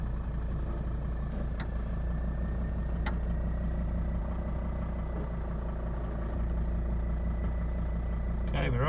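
A Mercedes Sprinter van's engine idles and rolls slowly over a Gunson Trakrite drive-over alignment gauge, a steady low drone throughout with a brief clunk near the end and a person talking.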